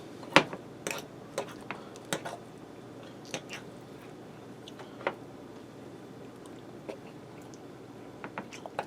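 Someone eats a cheesy pepperoni pizza pierogi casserole close to the mic, with soft wet chewing and scattered small clicks and bites over a quiet background.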